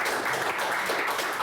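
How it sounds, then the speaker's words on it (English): A brief burst of audience applause for breakdancing performers on a live request show, dense clapping throughout at a fairly loud level. "Big round of applause for them, though."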